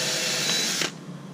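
Power drill boring holes through a metal piece of a Bonafide kayak cart, a steady close whirring that cuts off abruptly near the end.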